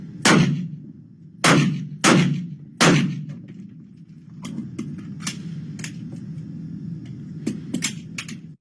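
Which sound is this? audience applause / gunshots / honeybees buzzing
gunshots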